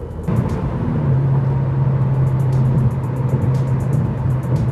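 A Dodge Caliber SRT-4 engine drones loudly and steadily under hard acceleration, its pitch holding a strong sustained tone as it pushes on, close and without any talking.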